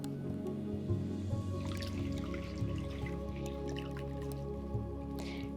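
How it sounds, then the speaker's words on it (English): A wet washcloth is wrung out over a basin in a care setting, with soft squishing and a light trickle of water dripping back into the basin, close and quiet. "We'll start by taking one washcloth from the basin and wringing it out over the basin."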